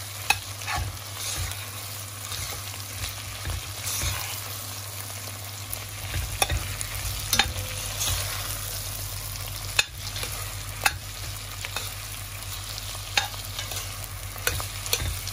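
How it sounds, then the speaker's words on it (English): Red onions sautéing in a pan for savoury rice with spicy pork, a continuous sizzle under repeated scraping and stirring strokes, close and steady with sharp utensil clicks, no voices. "I'm going to saute this down just a little bit"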